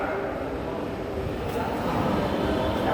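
Steady broadband rumble of a metro rail train running, close and moderately loud, with voices faintly beneath it.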